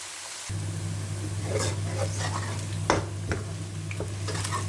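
Onions sizzle steadily in oil in a karahi over medium heat, with a spoon scraping and stirring through them in scattered clinks, close and continuous without talk.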